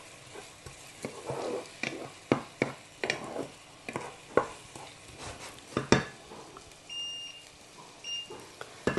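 Clams cooking with onion and garlic in a pan, being stirred with irregular scraping knocks and clatters over a soft sizzle, close and fairly quiet, with a brief electronic beep, no talking.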